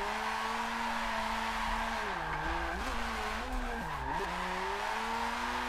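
A car drifts in the Forza 7 racing game, its engine whining at high revs while the tires squeal and the pitch dips and wavers through several slides, steady and loud with no talking.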